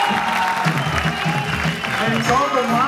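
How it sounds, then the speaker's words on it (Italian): A crowd at an Italian village festival burping contest applauds a contestant, brisk clapping mixed with murmuring voices and a few shouts close by. "Un grossissimo applauso a Andrea Benesso!"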